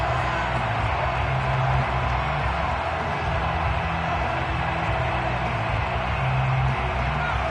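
Steady, loud stadium crowd roar from a Madden football video game, a dense wash of cheering that holds evenly throughout with no talk over it.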